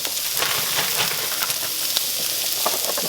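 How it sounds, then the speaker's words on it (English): Garlic and tomatoes sizzle in a hot skillet, a dense, steady crackling hiss with scattered pops, close and loud throughout with no talking. "I'm going to put the garlic and the tomatoes into that skillet"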